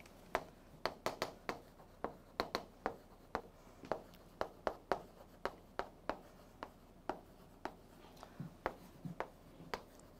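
Math being written on a board during a lecture: a steady series of crisp, close taps and short strokes, fairly regular and quiet, with no talking.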